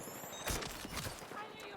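Gunfire in the video game Battlefield 6 during an AK-205 support match, a burst of loud shots near the start followed by continued scattered firing and battle noise over a busy background, with a voice talking over it.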